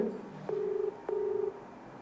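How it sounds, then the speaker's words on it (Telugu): A telephone rings twice on the line, each steady tone lasting about half a second with a short pause between them. The rings are close and clear, and no voices are present. "రింగ్ అవుతుంది."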